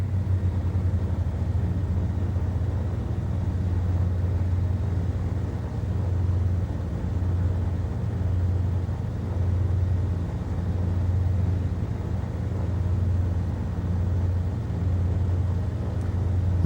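An aircraft engine in Flight Sim World drones steadily as the throttle is eased back, a constant low hum and rumble with no clear change in level.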